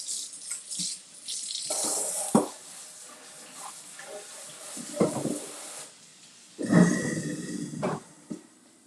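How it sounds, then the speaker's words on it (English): Hands are washed under a running kitchen sink tap. Several bursts of splashing water start and stop, with quieter gaps between them. "let me wash my hands again"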